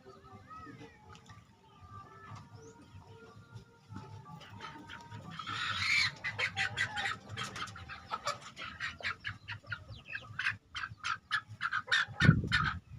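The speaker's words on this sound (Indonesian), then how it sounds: "anakan ayam" Chickens on a poultry farm, with many high, short calls repeating in dense bursts over a low background murmur. A loud thump comes near the end, and someone speaks faintly underneath.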